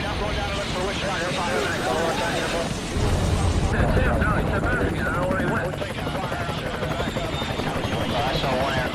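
Military helicopters flying in the Vietnam War, heard over a radio: a steady, dense rotor chop that runs the whole time, slightly louder in the middle, with voices talking underneath.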